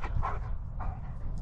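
A dog near a horse round pen gives two short yipping, whimpering barks close by over a steady low outdoor rumble, with no voices.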